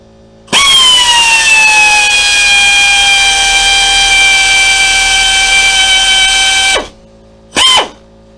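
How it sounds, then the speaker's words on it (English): A power drill bores into metal lubricated with cutting oil, giving a loud, steady motor whine for about six seconds that cuts off, then a brief second burst. "And it drills a lot better too with the oil on it."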